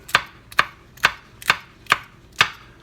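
A knife slicing garden chili peppers on a board, six crisp, evenly spaced chopping taps, close and clear with no talk.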